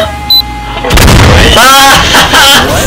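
A loud, booming blast from an item in the Roblox game Toolbox erupts after a brief quiet stretch, with a rumbling crash and further bursts rolling on behind it.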